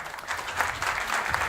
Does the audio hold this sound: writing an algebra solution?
no